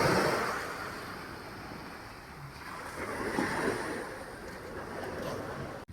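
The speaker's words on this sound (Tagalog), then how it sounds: "At naririnig ko ang sobrang lakas ng hampas ng alon." Strong waves after a night of heavy rain crash and roar continuously at Ransohan beach, a loud, dense rush of surf mixed with wind buffeting the microphone.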